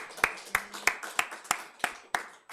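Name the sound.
church congregation clapping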